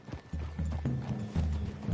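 Horse hooves in Red Dead Redemption 2: a few close clip-clops on soft ground, uneven steps in a short, irregular rhythm, with a low rumble underneath.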